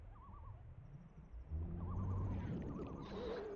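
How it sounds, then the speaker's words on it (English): Loons in The Legend of Zelda: Majora's Mask give wavering, tremolo-like calls over a steady wash of ambient game background, moderately distant and fairly soft. "Oh, is that what kind of bird those are? Loons?"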